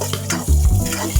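Spoon stirring sautéed ginger with a soft sizzle in a pan while cooking chicken tinola, a close scrape and swish over steady frying.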